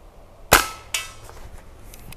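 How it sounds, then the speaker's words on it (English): An Umarex Cowboy Legend lever action CO2 BB rifle fires two sharp cracks about half a second apart, close and loud, each ringing out briefly before faint mechanical handling noises follow. "We're going to fire all 10 rounds."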